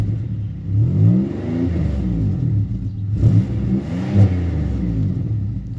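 The engine of a 2004 Chevy Impala LS is revved several times, each rise and fall of the motor sounding clearly over a steady idle, close and loud with no talking.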